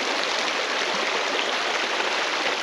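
A creek near a mountain campsite in Silverton pours steadily, a dense broadband rush of water that stays even and close throughout, with nobody speaking.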